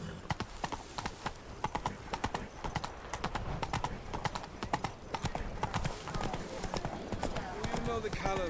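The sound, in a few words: horse Roach trotting, from video game The Witcher 3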